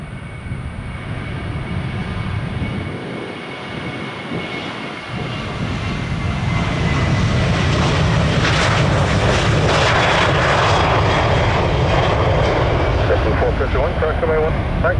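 A jet airliner takes off at Orlando International Airport, its engine roar loud and close, swelling midway and holding a steady, powerful rumble, with faint radio voices underneath.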